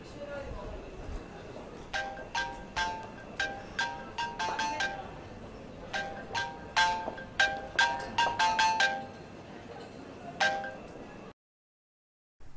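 Phone ringing unanswered, repeated bright electronic ringtone bursts in quick rhythmic groups, moderately loud indoors, cutting off abruptly before a brief silence.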